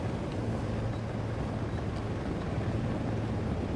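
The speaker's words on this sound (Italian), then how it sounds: "Elicottero unità vicino al container." Steady low rotor-and-engine drone of a helicopter in the Ghost Recon Wildlands video game, a continuous mid-level hum with no talk over it.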